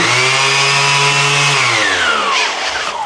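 A Makita 18V cordless electric sander runs steadily with a loud, buzzing motor whine that shifts pitch partway through, close by and continuous.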